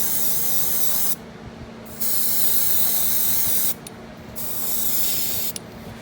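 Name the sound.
airbrush spraying French blue paint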